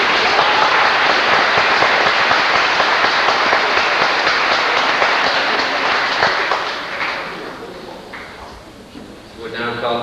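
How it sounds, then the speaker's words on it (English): A graduation-day audience applauding in a school hall, dense sustained clapping that holds steady and then fades out over the last few seconds. "So let's give her a round of applause too."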